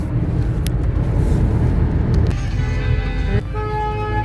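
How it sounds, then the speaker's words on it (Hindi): Busy late-night Delhi traffic with idling and moving cars, close and loud, with a steady engine rumble and several car horns honking in overlapping toots, including a long sustained blast near the end. "रात का 12:04 हो रही है और दिल्ली में ट्रैफिक का हाल देखो, पे गाड़ियां खड़ी हैं।"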